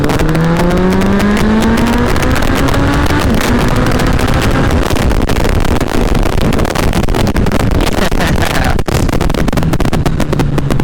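A Honda Hornet 919 motorcycle accelerates hard from low RPM: the engine note climbs steadily into a loud, rising roar, then holds at high revs as the bike pulls away, with strong wind noise and no talk.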